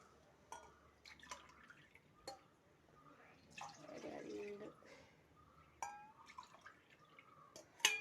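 Water is poured into a glass in a home kitchen while preparing a Calicut snack, a quiet, brief splashing pour amid faint drips and soft clinks.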